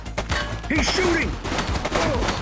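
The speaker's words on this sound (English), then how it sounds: "He's shooting!" Rapid gunfire in the police game The Precinct, a quick string of sharp shots and impacts over a couple of seconds, loud and close, mixed with game sound effects and voices.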